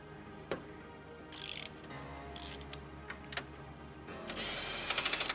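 A wrench or ratchet turns the 17mm motor mount bolts on a Honda Civic's frame rail, giving scattered clicks and ratcheting bursts, close and fairly loud, ending in a longer sustained grinding ratchet, with no talk.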